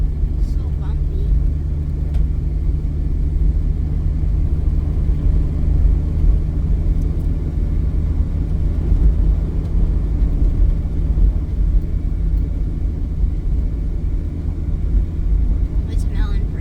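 A car rumbles along a bumpy, snow-covered road with a low, steady engine and road drone throughout, heard from inside the vehicle, with occasional faint knocks.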